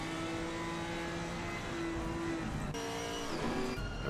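A BMW and a Ginetta GT4 race car run close together at Imola in a sim racing game, their steady engine whine holding a level pitch before a sudden shift midway, with no talk over them.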